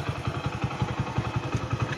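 A motorcycle engine running on LPG fuel putters at a steady, fairly fast rhythmic idle, close and moderately loud, with light mechanical clatter and no talking.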